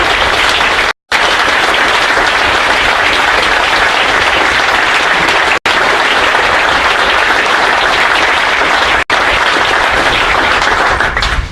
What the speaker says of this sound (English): a round of applause for the great effort that they put into this